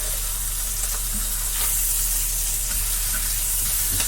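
An egg fries in a pan, a steady loud sizzle with a bright hiss held throughout, close by, with faint stirring or scraping touches.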